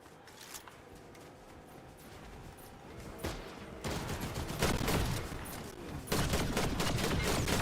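Video game gunfire crackling in bursts, sparse single shots at first and then denser volleys growing louder toward the end, with faint talk underneath.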